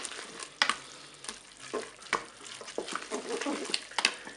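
Spaghetti with a tomato-mustard mixture being stirred in a Cookeo, close soft sizzling with repeated scraping and knocking of a spoon against the pot.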